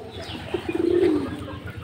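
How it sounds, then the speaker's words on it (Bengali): A young local pigeon at a home pigeon farm lets out a single short, wavering coo in the middle of a quiet stretch, close and moderately loud. "এটা হচ্ছে দেশি কবুতর বাচ্চা"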